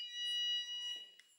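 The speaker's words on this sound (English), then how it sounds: "Nothing's burning. It's just the alarm." A fire alarm going off during a tech talk on CSS, heard as a loud, continuous high-pitched electronic tone with a few faint background noises, with no talking.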